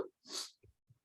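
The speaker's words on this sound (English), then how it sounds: "I have to sneeze." A single short sneeze bursts out sharply in a quiet indoor training session, followed by a couple of soft breaths.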